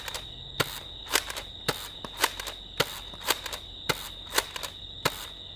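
Rapid slam-fire shots from an X-Shot Insanity toy blaster, a string of about a dozen sharp cracking snaps at an uneven quick rhythm, loud and close with faint mechanical clatter between them.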